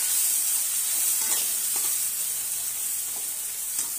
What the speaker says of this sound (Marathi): हे चांगलं आता आपल्याला परतून घ्यायचं आहे।